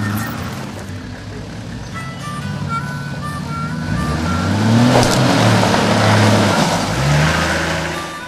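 A 4WD running Simex tyres pushes through a muddy bog hole on an off-road track, its engine droning steadily and then rising louder and rougher midway as it powers through, with splashing and churning over the low rumble.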